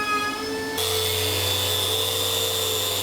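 Festool Rotex sander on wood, a high whirring motor that steps up sharply into a louder, steadier spinning drone with a low hum beneath, alone and close.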